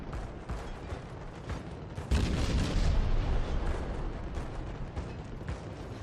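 Volleys from 130mm naval cannons in the World of Warships video game. Deep booms and rumbling shots sound amid mechanical creaks, with one heavier, louder burst near the middle and a continuous battle din underneath.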